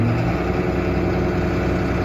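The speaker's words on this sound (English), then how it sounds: "turn the PTO on" A tractor running its PTO to drive a liquid manure pump in sub-zero cold, a steady, loud, low droning engine hum with a constant mechanical whine, unbroken and close for the whole stretch, with no voices.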